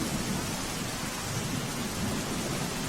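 Heavy monsoon rain pours down steadily in a dense, continuous roar over rural Dwarka, Gujarat, with a low rumble underneath and no voices.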